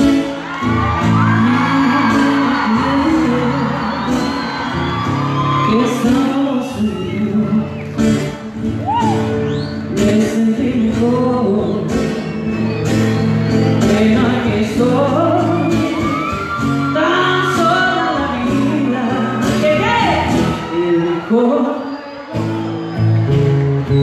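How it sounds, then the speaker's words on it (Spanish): A crowd at a charity concert event in Posadas shouts, whoops and cheers loudly and continuously, with yells and bursts of voices layered over one another throughout. "Escucha, a Captiro, cuando le gusta algo, usted tiene que gritar."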